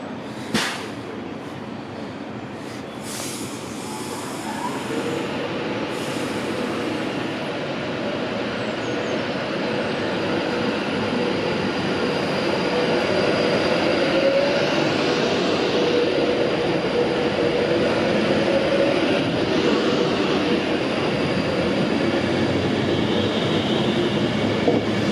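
Avanti West Coast Class 390 electric train pulling out of Oxenholme Lake District station towards London Euston, a steady broad rumble and hiss that swells gradually as it gathers pace, heard on its own without voices.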